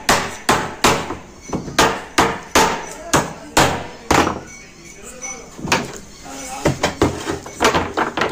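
Wooden pieces are hammered into a fabric sofa frame in a rapid series of sharp, close blows that pause briefly midway and then resume, with a voice heard in the gap.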